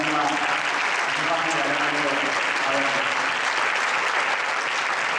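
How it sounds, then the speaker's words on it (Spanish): Applause from an audience for a choir member at a choir performance, steady and dense for the whole stretch, with faint voices and chatter mixed into the clapping. "Sonia Platero, un fuerte aplauso para nuestra compañera."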